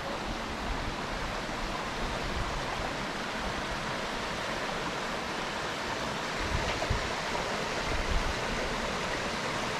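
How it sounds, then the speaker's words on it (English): A waterfall roars in a steady, dense wash of broadband noise, loud and unbroken, with no voices over it. "We just made it to the falls."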